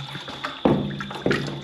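Water poured from a bucket at a construction site in Jamaica, two quick splashing gushes hitting a surface close by, each dying away over about half a second.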